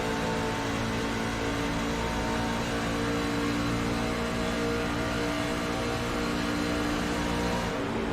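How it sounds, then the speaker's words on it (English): A race truck engine in a racing video game at Michigan drones steadily and loud the whole time, a dense continuous tone with no clear change in pitch and a brief dip near the end. "You can hear just how much he had to lift off the throttle there going down into turn 1 and 2"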